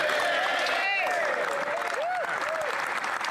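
A crowd applauds in the Canadian Senate chamber, a steady moderate patter of clapping with voices speaking over it.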